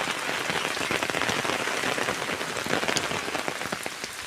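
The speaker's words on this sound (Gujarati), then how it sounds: "હજી તો વરસાદ ચાલુ છે, એક જ ધારો।" Heavy monsoon rain pours steadily over open farm fields in a dense, unbroken patter of drops, loud and close, with no voices or other sounds breaking through.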